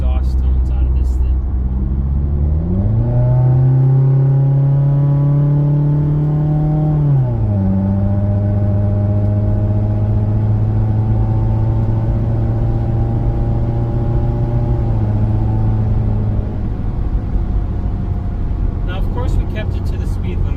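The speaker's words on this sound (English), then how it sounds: "can we get some more full exhaust tones out of this thing?" A 2015 Subaru WRX heard from inside the cabin as its exhaust note climbs and holds through acceleration, a steady droning engine tone rising in pitch, with a shift partway, fairly loud and continuous, fading near the end.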